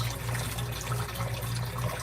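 Tap water runs steadily into a kitchen sink while dishes are being washed, a continuous hissing splash with a low rumble, no pauses and no voices.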